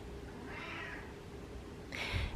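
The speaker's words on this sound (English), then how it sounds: "The cat's meowing." A domestic cat meows twice indoors in a quiet home: one soft mew, then a louder, sharper meow close by near the end.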